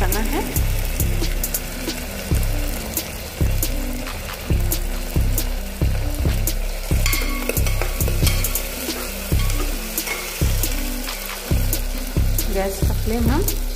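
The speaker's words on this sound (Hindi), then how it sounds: "अब अदरक लहसुन पेस्ट को 2 से 3 मिनट पकाना है।" Ginger garlic paste fries in a pan for Haryanvi-style rajma, a loud close sizzle broken by regular rhythmic scraping strokes of stirring throughout, with no talking.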